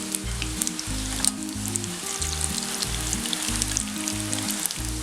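Mixed vegetables deep fry in oil, giving a loud, dense, continuous sizzle with constant bubbling crackle and rhythmic low thuds from stirring.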